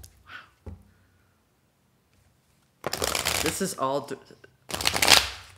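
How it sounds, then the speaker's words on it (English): A deck of tarot cards is shuffled in bursts, a dense papery riffle and flutter, while a voice speaks briefly before and between the shuffles. "We'll do one more shuffle."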